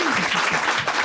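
Studio audience applauding Johnny Hallyday on a TV show, a dense continuous wash of clapping from many hands, loud and close, steady for the whole second with a faint voice underneath.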